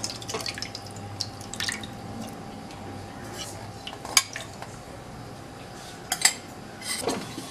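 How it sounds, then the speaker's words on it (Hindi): A spoon stirs curdled milk in a pot on a gas stove, with soft liquid drips and a few sharp metallic clinks against the pot over a quiet low hum. "ऐसे ही चम्मच हिलाते रहें और बॉईल होने के लिए दें"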